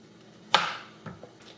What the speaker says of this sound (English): It's time to cut the pear. You cut it exactly in half.